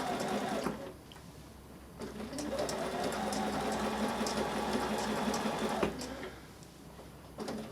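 A sewing machine stitches a decorative crab stitch while quilting wave patterns, a close steady whirring hum with rhythmic needle chatter, pausing briefly between bursts.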